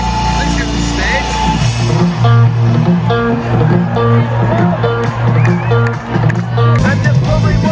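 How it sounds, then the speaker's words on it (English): Festival crowd at Pukkelpop cheering and shouting near a stage, dense and loud, with music pulsing underneath and voices talking over the roar. "Fucking cheering."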